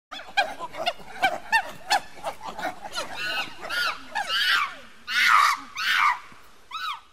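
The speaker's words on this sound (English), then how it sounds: "Monkey." A monkey screams in rapid, shrill, rising calls, scattered yelps building into louder, longer shrieks near the end, close and alone.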